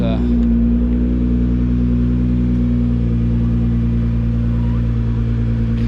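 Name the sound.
Nissan GTR R35 car reversing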